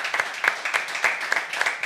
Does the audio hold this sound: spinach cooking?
no